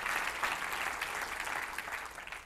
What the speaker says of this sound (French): est-ce que vous pouvez déjà applaudir